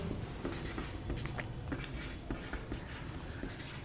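Pen or chalk writing out notes during a chemistry lesson on hydrogen, heard as quick, close scratchy strokes in short bursts with small pauses between them and no talking.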